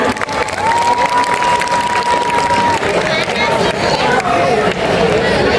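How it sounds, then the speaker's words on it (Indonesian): A school audience at a junior high sociodrama claps and cheers for the drama cast, a loud, continuous wash of applause mixed with crowd chatter and voices. "Mari kita beri tepuk tangan dulu untuk para pemeran drama."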